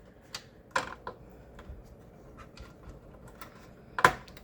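Sharp clicks from a screwdriver unscrewing screws inside a Dell Optiplex 390 small form factor PC, a few sparse ticks spread out, with a louder click near the end over quiet room noise.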